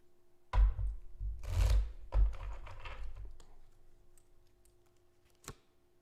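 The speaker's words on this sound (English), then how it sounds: "but I'll show you that I'm shuffling too." Tarot cards being shuffled by hand indoors, heard as a few short, dry riffling bursts spread across a few seconds, with quiet gaps and a faint steady hum between them.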